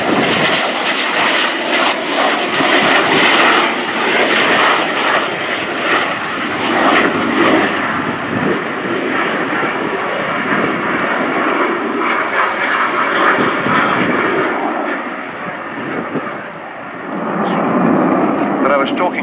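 The Avro Vulcan B.2 XH558 jet bomber comes in to land at Fairford with its wheels down, a loud, broad jet roar that swells, dips briefly, then surges again, with voices talking over it.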